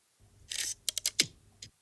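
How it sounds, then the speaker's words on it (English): A camera shutter sound effect for a cinematic sports edit: a brief whooshing burst, then a quick cluster of sharp mechanical clicks, crisp and close. "like a shutter sound here"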